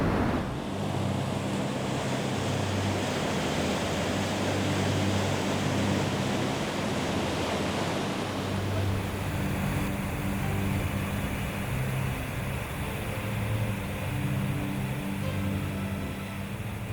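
Water rushes down the Mulholland Cascade of the Los Angeles aqueduct, built in 1913, a dense continuous roar with a low rumble, loud and steady throughout.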